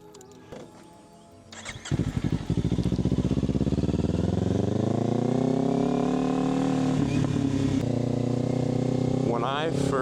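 A Kawasaki Ninja 500 motorcycle with an upgraded aftermarket exhaust cranks and catches, then settles into a loud, close idle with rising and falling revs, and a voice talks briefly at the start.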